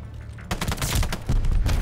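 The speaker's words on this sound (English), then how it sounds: "Another dude out here shooting?" Loud, close automatic gunfire in Call of Duty: Vanguard, a sudden dense barrage that starts after a brief quiet moment and keeps going with heavy, punchy shots.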